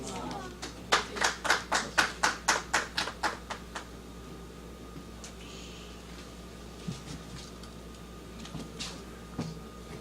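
A round of applause in a temple meeting hall: a burst of about a dozen quick, rhythmic claps that fades out within a few seconds, followed by quiet room tone and a few scattered faint knocks.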